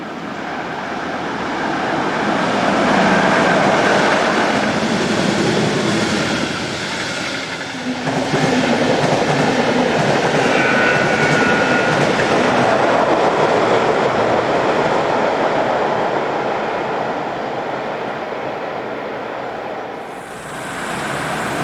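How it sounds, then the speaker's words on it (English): Locomotive 112149 hauling a train northbound toward Frankfurt on a multi-track main line, a steady broad rumble and rail roar passing close by for the whole stretch, with faint clickety-clack and no voices. "112149 is seen heading north on a train to Frankfurt"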